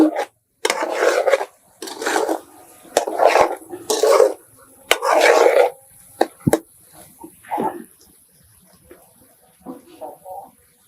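Fried coriander seeds, cinnamon and cloves pounded and ground in a stone mortar for an egg masala curry, repeated loud rasping grinding strokes in bursts of about a second, separated by short pauses, close up, with a few sharp knocks.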